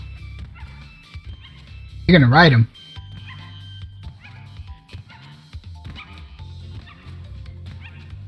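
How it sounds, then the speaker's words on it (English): A polar bear cub in Crash Bandicoot 2 of the N. Sane Trilogy gives a single loud, pitched yelping bark that rises and falls. Someone talks over the game's music before and after it. "He barks, he yelps."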